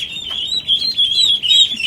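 Khaki Campbell ducklings give a dense chorus of high, rapid chirps, close and loud, continuous with slight pulsing as individual peeps overlap.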